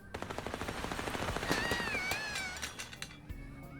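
Rapid video-game gunfire with real bullets crackles in a fast automatic burst, loud and close, while a thin wavering whine rises over it midway before the shooting tapers off.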